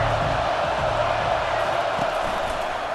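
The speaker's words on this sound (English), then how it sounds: "The roar of the crowd trying to fuel this defense to keep them pinned in their own end." Crowd roaring in a college football video game, a loud, dense and sustained wash of cheering that stays steady throughout with no individual voices standing out.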